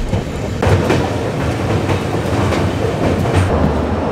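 A Vistadome glass-coach train running on rails through the Dooars, a continuous rumble with rhythmic clickety-clack wheel beats, heard from on board.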